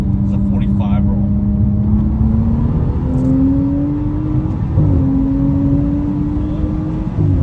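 A full bolt-on 2015 BMW 335i accelerates hard in a roll from inside the cabin, its engine droning loud and steady with rising pitch through gear shifts.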